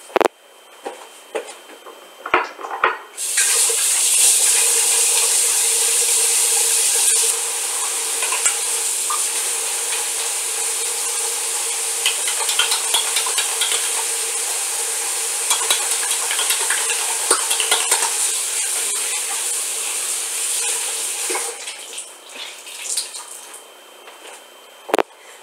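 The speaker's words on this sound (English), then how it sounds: "you can put this on pause or you can listen to me wash my hands" Hands are washed under running water: a steady, close rush of tap water runs for about eighteen seconds, with a few small knocks at the start and the flow cutting off near the end.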